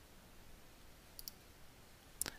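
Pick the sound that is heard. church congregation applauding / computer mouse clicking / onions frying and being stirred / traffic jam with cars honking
computer mouse clicking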